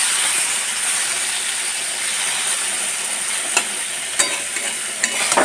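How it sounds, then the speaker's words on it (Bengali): Radish pieces fry in a pan with a constant, loud sizzle, punctuated near the end by a few sharp clinks and scrapes of stirring. "এইদিকে মূলো ভাজা করে নিচ্ছি"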